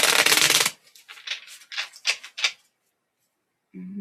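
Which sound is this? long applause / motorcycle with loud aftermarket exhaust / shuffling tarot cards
shuffling tarot cards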